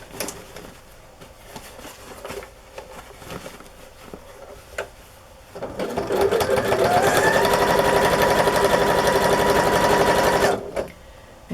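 A sewing machine stitches in a fast, steady run for several seconds after some quieter handling noises.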